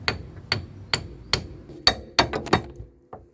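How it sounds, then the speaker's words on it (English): A hammer gives sharp metallic taps to a CV joint on a car drive shaft, about ten close, loud strikes in an uneven rhythm with ringing clinks and no talk. "just give it some sharp taps with the hammer."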